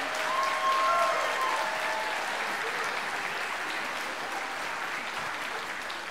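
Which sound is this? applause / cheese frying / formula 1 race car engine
applause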